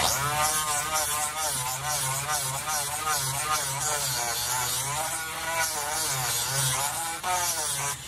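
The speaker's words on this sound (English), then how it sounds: "What I've done is I've gone ahead and sanded it" A handheld Dremel rotary tool sands the bottom end of a Native American flute, a steady, close, continuous high whine with a wavering pitch that runs the whole time without pause.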